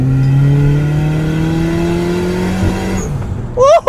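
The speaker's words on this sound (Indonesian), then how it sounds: "Yang terdengar malah suara blow off valve-nya nih." A modified Toyota Avanza accelerates hard in second gear. The engine drone climbs loud and close, then drops off with a brief hiss from the blow-off valve. A voice speaks at the very end.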